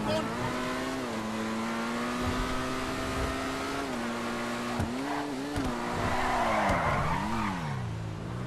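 A Paragon R race car in GTA Online brakes hard and skids, its engine droning steadily before tires squeal and scrub in rising, wavering screeches, loud and close with no talking.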